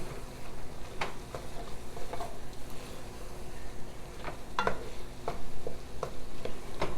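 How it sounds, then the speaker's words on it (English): Chicken and sausage stirred in a sizzling pan for pasta, a steady frying hiss with intermittent scraping and clinking of the utensil against the pan throughout. "I'm going to stir this together."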